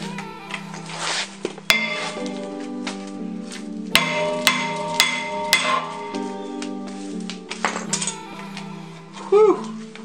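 A T40 caliper bolt comes out of a Volvo rear brake caliper with a series of sharp metallic clanks and impacts, several strong hits standing out among ongoing mechanical clatter in a close, loud workshop setting.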